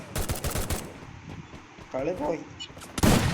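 Rapid bursts of Counter-Strike gunfire crackle through the first second, with a louder blast near the end, while someone talks over the game.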